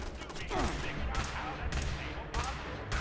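Automated turret gunfire in Fallout 76, a few sharp bursts of shots at a moderate distance with some mixed sound in between.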